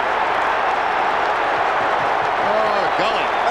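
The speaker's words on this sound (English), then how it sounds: "it's not the Collingwood supporters clapping and cheering. They're the Carlton ones, I can tell you." Carlton supporters clap and cheer in a packed stadium during an Australian football match against Collingwood: a dense, continuous crowd roar that stays even throughout, with a commentator talking over it.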